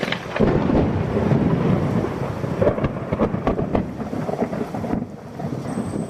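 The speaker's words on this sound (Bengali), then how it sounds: "রাত্রে বৃষ্টি নামে" A thunderstorm with steady heavy rain and rolling thunder plays as a sound effect in a narrated story. It is a dense, continuous roar with no voices.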